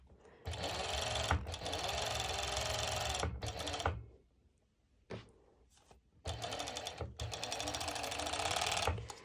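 A sewing machine runs fast, stitching elastic onto basted bikini top ruffles, in two long loud bursts with a brief quieter pause between them.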